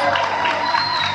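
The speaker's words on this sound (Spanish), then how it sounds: "un fuerte aplauso para ellos" Applause and cheering from an audience at a parish fair, honoring the children, a steady dense wash of clapping across the whole moment with crowd noise mixed in.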